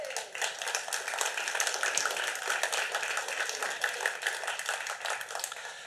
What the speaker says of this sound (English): Please welcome them with your applause